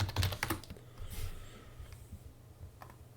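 Fingers type a search on a computer keyboard, a quick burst of clicking keystrokes fading into a few scattered, quieter taps.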